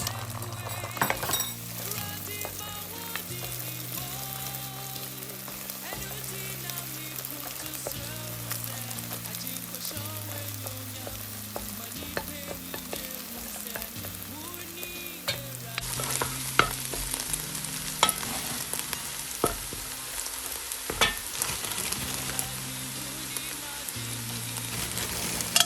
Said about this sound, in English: Make sure it's really hot before you drop in your eggs